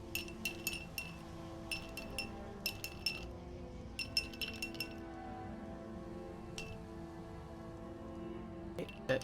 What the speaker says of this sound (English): That ice ASMR, oh, you hear it?